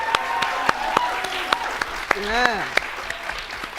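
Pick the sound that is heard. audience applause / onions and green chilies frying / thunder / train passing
audience applause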